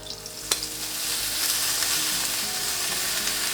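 Olive oil sizzles in a frying pan over medium-high heat, a steady close hiss with a sharp crackle near the start, heard alone.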